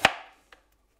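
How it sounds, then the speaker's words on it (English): A knife chops through a head of cabbage on a board: one sharp, loud cut with a short ringing tail, then a second lighter chop about half a second later, with no talking. "So we will start by cutting this cabbage in half, like this. And then I just chop them up"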